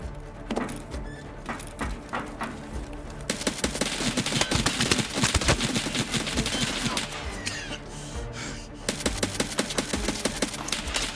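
Rapid bursts of gunfire in Escape from Tarkov, dense volleys of shots echoing close and loud, broken by brief pauses before more sharp firing resumes.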